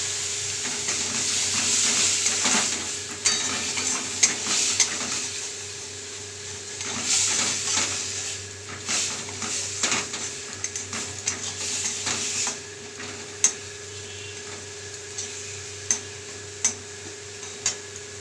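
Chopped onion frying in a pan for an omelette curry gives a steady close hiss of sizzling, broken by scattered crackles and small pops, with no talking.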